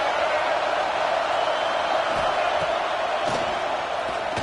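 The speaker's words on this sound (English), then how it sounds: "This crowd trying to make life miserable for this offense." A football stadium crowd roars loudly and continuously, a dense wash of many voices with a few brief thuds and shouts rising out of it.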